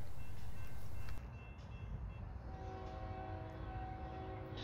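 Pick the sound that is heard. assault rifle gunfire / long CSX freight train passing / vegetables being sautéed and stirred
long CSX freight train passing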